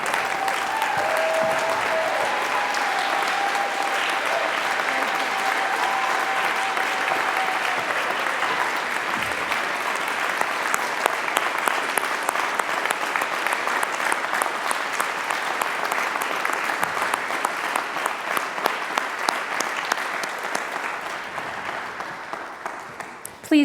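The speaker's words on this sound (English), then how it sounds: "Would you please stand and join us all in applause for the 2021 Warner School" Sustained applause from a large audience honoring 2021 Warner School of Education graduates at a commencement ceremony, steady and dense clapping lasting over twenty seconds, loud and close, with no talk over it.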